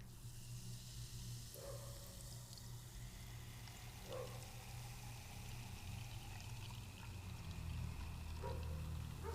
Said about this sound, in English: I have a couple of glasses to pour it in